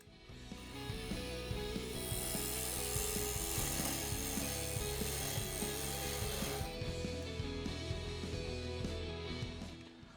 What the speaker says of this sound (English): I'm rotating the tool so the top wing is lining with that, and then I'm rubbing the bevel against the timber